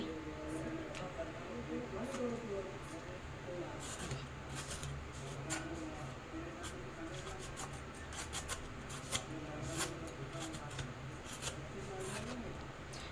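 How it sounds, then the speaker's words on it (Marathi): Raw mango is rubbed against a hand grater in steady, repeated rasping strokes, close and continuous, with faint background noise and no clear talking. "आता ही कैरी मी एकदम स्वच्छ धुवून आता आपल्याला याला किसून घ्यायचं आहे"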